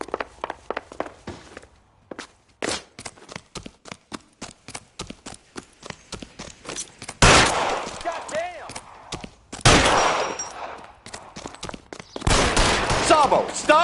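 Gunfire in the 1940s crime game L.A. Noire, a series of sharp loud shots in bursts interspersed with quieter rapid clicks, with louder blasts and reverberant bursts toward the end.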